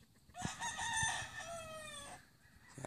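A rooster, a cock bred from fighting-type brood stock, crows once with a long, loud, near cock-a-doodle-doo, its drawn-out final note tapering off before a short quiet tail.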